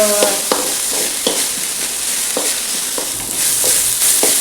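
Seven garlic cloves fry in a pan for a chutney, a loud close sizzle with a regular series of spatula scrapes and taps as they are stirred.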